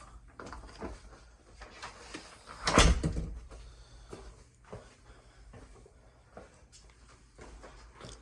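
A house door swings shut once in a hallway, a single fairly loud thud near the middle set against quiet room noise and faint shuffling.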